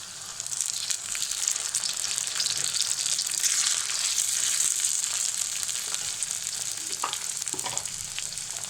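Onions fry in hot oil for a Bengali chicken bhuna, a loud steady sizzle throughout, and near the end a few soft stirring knocks as ground spice paste goes into the pan.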